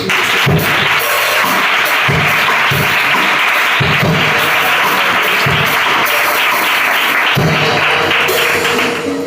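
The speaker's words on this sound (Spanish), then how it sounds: "un aplauso a la palabra." A church congregation claps loudly and continuously for nearly ten seconds, a dense close wash of hands with occasional heavier thumps and taps mixed in, no speech above it.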